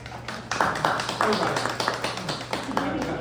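A small group claps for a few seconds, uneven and sparse, with a voice murmuring underneath.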